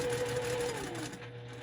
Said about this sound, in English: I'm just gonna go ahead and sew 1/8 of an inch